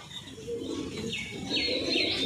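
A1 imported pigeons coo close by, with soft repeated rising calls over a low background murmur of more birds.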